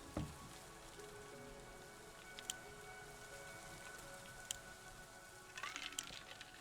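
Rain falls in the Citadel: Forged with Fire video game as a faint, even patter, with a few soft clicks and a brief cluster of taps near the end.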